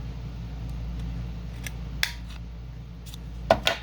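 Scissors trimming a 12x12 sheet of paper for a folder, a few short crisp snips standing out against a quiet background, two near the start and a paired cut toward the end.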